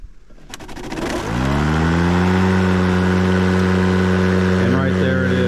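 Ryobi 40V brushless electric lawn mower motor switching on, rising from near silence into a steady, fairly loud hum with strong sustained tones that continues without talk.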